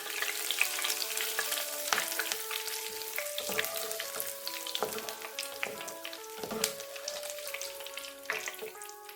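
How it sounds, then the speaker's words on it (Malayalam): Curry leaves frying in coconut oil over low heat give a soft, spattering crackle with occasional sharper pops, heard beneath a gentle melodic tune. "തീ കുറച്ച് വെച്ചിട്ട് ആദ്യമേ നമുക്ക് കുറച്ച് കറിവേപ്പില വറുത്ത് കൊടുക്കാം."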